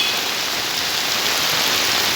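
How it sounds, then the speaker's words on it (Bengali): Loud, heavy rain falls continuously in a thick, unbroken roar in Sylhet, Bangladesh. "দেখেন কি পরিমাণ বৃষ্টি হচ্ছে"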